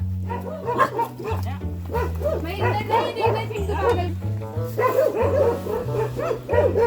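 A Himalayan husky barks and yips excitedly while chasing another dog outdoors. The bursts are close and frequent, mixed with a person talking over them and a low steady tone underneath.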